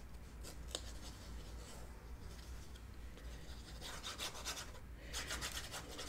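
Glue is rubbed and spread across paper for a mini album, a soft, close scratching and rasping that swells in short bursts toward the end, quiet overall with no speech.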